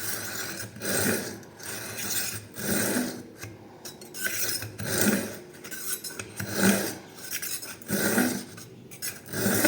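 A kitchen knife drawn repeatedly through an IKEA SKÄRANDE sharpener, giving a steady rhythm of loud, gritty rasping strokes about one per second, close up with no talking.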